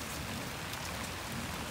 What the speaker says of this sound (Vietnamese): Nhưng mà trời mưa vậy đó nha